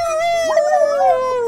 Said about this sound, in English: A husky howl.